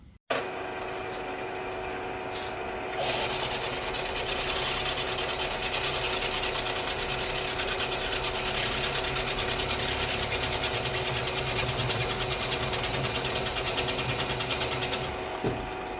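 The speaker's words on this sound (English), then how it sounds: "Now we'll swap this machining bit out for a drill bit." A machine drill whirs steadily for a long stretch, a high grinding whine layered over a motor hum, close and continuous until it stops.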